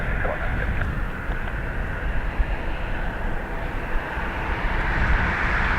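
An Aer Lingus jet, flight EI961, departs Dublin Airport with a loud, steady engine roar and broadband rumble that holds throughout, heard at a distance with faint voices in the background.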